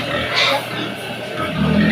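Pigs grunt and oink on a Filipino farm, low snorting sounds mixed with pen noise, close by and fairly loud.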